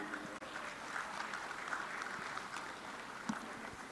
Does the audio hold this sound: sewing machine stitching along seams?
no